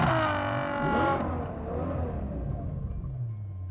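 A Ferrari FF's engine runs nearby, with a rising and falling rev that settles into a low, rumbling idle.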